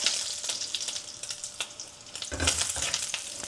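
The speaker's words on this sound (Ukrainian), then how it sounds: "І підсмажуємо до красивого золотистого кольору" Crackling, hissing fry from a hot pan, up close, with sputtering pops and a louder burst of sizzle partway through.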